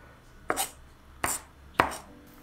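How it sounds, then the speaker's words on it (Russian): Three sharp knife chops through onion on a cutting board, spaced about a second apart, close and crisp with quiet background between strikes. "Можно дополнительно порубить ножом, чтобы лук был достаточно мелкий"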